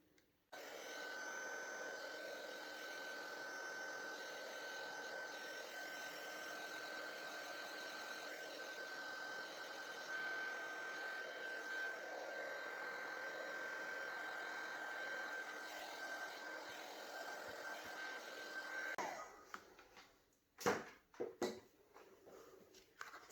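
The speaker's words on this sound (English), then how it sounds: "I'm going to come in with my heat gun, and I'm just going to go over that to try and help it dry faster" A heat gun blows steadily for about twenty seconds over homemade texture paste, a constant close whirring hiss, then switches off and leaves a few faint clunks.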